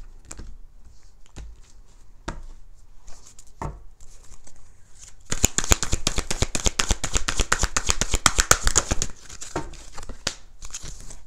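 Close-up riffle of tarot cards: a few scattered flicks, then a long rapid burst of crisp fluttering snaps, tapering off into single taps at the end.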